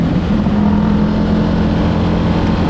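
Motorcycle on an empty road for a Sunday ride, a steady close engine drone with wind rush, even and continuous with no voices.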